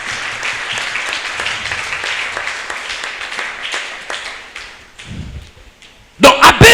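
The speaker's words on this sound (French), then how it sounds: "Acclame pour le Seigneur." A church congregation applauds during a French-language sermon, sustained clapping from many hands that fades gradually, followed by a loud voice at the end.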